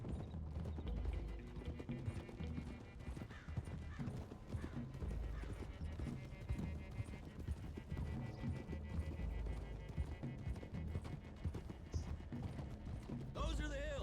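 Horses' hooves galloping in the Western video game Red Dead Redemption, a steady clip-clop rhythm under a busy mix of game music and voices, with a brief whinny among the hoofbeats.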